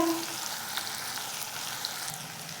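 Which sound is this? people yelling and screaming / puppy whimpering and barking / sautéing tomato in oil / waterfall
sautéing tomato in oil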